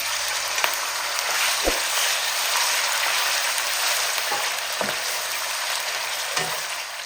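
Chicken pieces frying in a cup of hot oil, giving a steady, loud, close sizzle that holds throughout, broken by a few brief knocks, with no voices.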